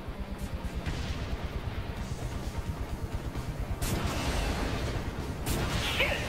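Rockets fired in Saints Row 3 during a boat chase, a dense run of rapid blasts and booms over a constant engine-like rumble, with a sharp whooshing burst near the end.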